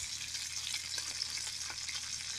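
Appleton Farms premium sliced bacon frying in a skillet gives a steady, close, bright crackle and hiss with small pops. There is no talk.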